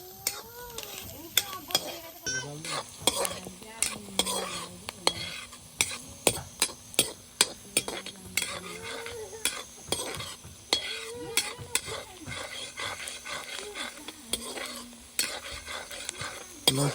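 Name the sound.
frying and stirring onions with local chicken meat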